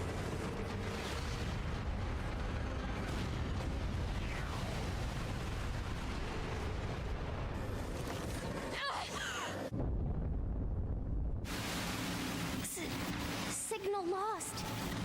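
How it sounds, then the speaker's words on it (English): Missile impacts in the action game NieR: Automata, dense rumbling booms and blasts filling the scene, with a brief drop-out partway and electronic tones near the end. "And some missile impact."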